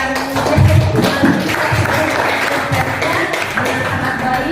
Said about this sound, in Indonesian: Kita beri tepuk tangan untuk yang dengan